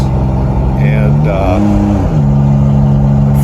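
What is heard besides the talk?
truck engine running loud without a muffler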